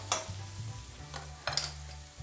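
Tomato masala fries in a pan for masala idli fry, a faint low sizzle with a couple of soft spoon scrapes, quiet and close with no talking.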